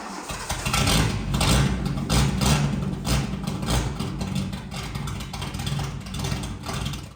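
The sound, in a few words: cheap supercar engine with straight-piped exhaust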